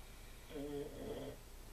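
A person snoring faintly in a quiet room, one soft drawn-out snore rising and fading in the middle of the stretch.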